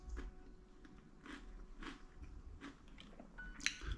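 Natural mature cheddar Kettle potato crisps crunch in a few quiet, close bites spaced through the moment, with soft chewing between and no talking.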